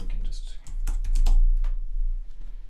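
Quick keystrokes on a computer keyboard during music production work: a handful of sharp, close clicks in an irregular burst over a steady low hum.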